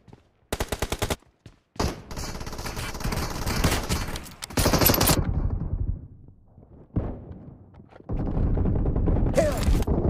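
Gunfire in BGMI's gun game mode, loud and close: rapid automatic bursts, then sustained heavy firing with booming impacts, a pause with fading echoes, and another long burst at the end.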